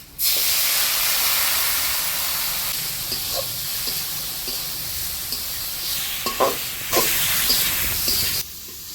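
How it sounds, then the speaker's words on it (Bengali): Spice masala of salt, chilli powder and green chillies frying in a pan with a little water added, a steady loud sizzling hiss lasting several seconds with a few sharp spatters and stirring clicks before stopping abruptly. "মশলাটা কষাবার জন্য দিয়ে দেবো একটু জল"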